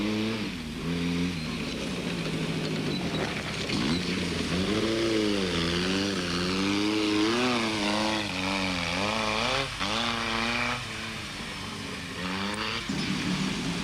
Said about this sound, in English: Niels Eriksson was enjoying a remarkable drive in the Volkswagen, keeping the racecar of Richard Carolan behind him